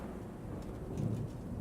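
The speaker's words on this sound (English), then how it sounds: "Suddenly, a peal of thunder shatters the stillness, followed by a howling wind that shakes the tower to its foundations." Low thunder rumbles through a stormy night in the video game Warhammer Chaosbane, a faint, distant roll swelling briefly mid-way over a soft, steady wash of rain-like background noise.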